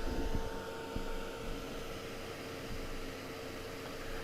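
A hair dryer blows steadily over wet paint, a constant close whoosh with a faint hum that holds for several seconds and then eases slightly.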